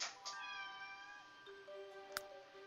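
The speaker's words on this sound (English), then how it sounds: "Also, meow." A cat meows in The Sims 3 game, a clear, drawn-out cry followed by a second shorter meow over quiet background music.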